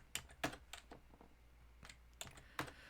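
Code being typed on a computer keyboard: a handful of soft, close key clicks in irregular bursts, with a short pause midway before a few more taps.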